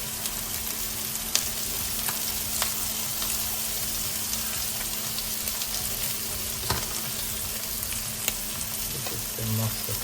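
Minced garlic fries in a pan with a steady, dense sizzle that holds throughout, broken by a few sharp clicks from stirring.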